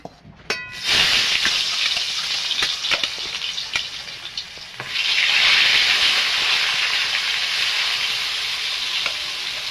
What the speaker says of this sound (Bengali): আমি বেগুনগুলো ভাজা করে নেব।